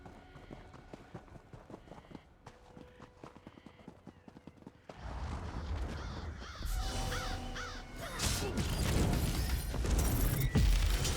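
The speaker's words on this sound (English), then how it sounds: "Pay the crows no mind. Nothing but an annoyance." Crows caw repeatedly in a mountain area of the video game Elder Scrolls Online, harsh calls rising over the thudding clip-clop of a horse. The sound grows denser and louder partway through.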